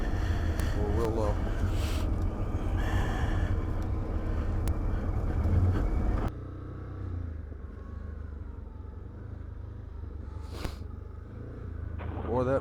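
An ATV rolls down a steep rocky Arkansas trail in four-wheel low, its engine droning steadily under engine braking with wind buffeting, then dropping to a quieter idle-like rumble, while riders talk over it.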